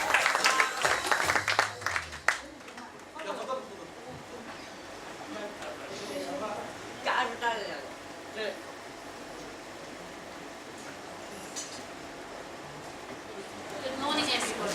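Audience applause at a graduation ceremony, a broad wash of clapping that lasts the whole stretch, louder at the start and again near the end, with a voice talking briefly over it.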